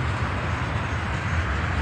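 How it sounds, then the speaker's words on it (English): A Norfolk Southern freight train rumbles past close by, a continuous low roar with rattling wagons and steady rolling noise. "here's the rest of the train"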